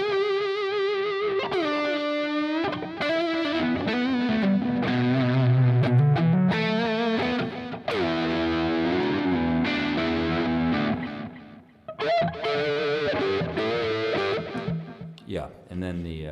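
Electric guitar played through the neck pickup with distortion effects, a thick sustained overdriven tone with bends and held notes, loud and continuous with a brief drop near the end.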